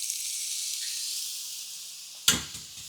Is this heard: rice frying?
yes